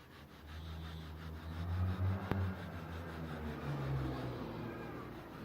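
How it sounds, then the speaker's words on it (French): Steel wool rubs lightly across walnut-stained wood in a steady, continuous scrubbing hiss, close and moderate in level without pauses. "maintenant je vais passer de la paille de fer simplement pour égrener"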